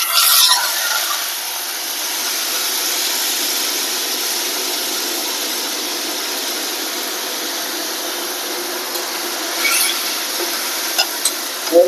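Dal tipped into hot oil tempered with dry red chillies and black cumin gives a steady, bright sizzle that holds evenly throughout, close up and with no talking.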